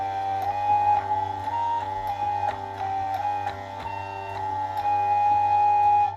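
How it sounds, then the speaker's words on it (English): A hurdy gurdy organ played by turning its wheel gives a sustained, steady organ tone with several pipe pitches sounding together. A light rhythmic ticking from the mechanism runs underneath, heard close and without any voices. "The speed at which the wheel turns adjusts the pitch of the organ a little bit."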